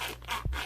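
A toy handsaw rubs back and forth across a surface in a short, close scraping stroke with a brief louder scrape near the end.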